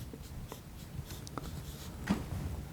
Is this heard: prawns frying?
no